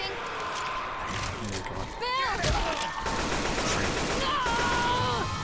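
Grenade launcher and other weapons firing in a video game, a burst of loud explosive shots and gunfire with whistling projectiles, under excited talk from players.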